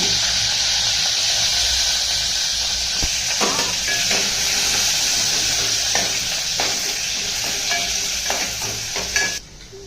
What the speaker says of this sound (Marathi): आता आई याच्यामध्ये तेल टाकणार आहे बघू शकता इथे तुम्ही आई कांदा टाकला